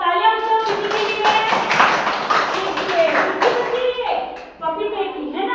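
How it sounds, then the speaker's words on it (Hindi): Children clapping in a classroom, a burst of scattered, uneven hand claps close by, mixed with a teacher's speech and children's voices throughout. "तालियां बजाओ किसी के लिए"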